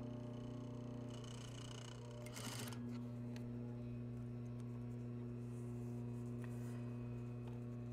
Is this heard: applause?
no